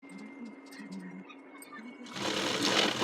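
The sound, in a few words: sewing machine stitching blouse cloth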